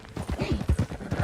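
Horse hooves clip-clop in a steady rhythmic trot in Red Dead Redemption 2, close and moderately loud, with faint voice-like sounds mixed in.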